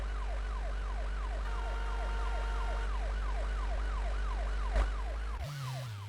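A video game fire engine wails with a repeating up-and-down siren sweep, loud and steady over a low engine drone, then cuts off abruptly near the end.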